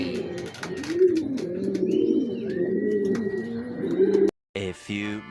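Racing pigeons coo steadily and close by in a loft after a training release, with low rolling calls that run on without a break. A short gap and a brighter chirp come near the end, and voices are faint in the background.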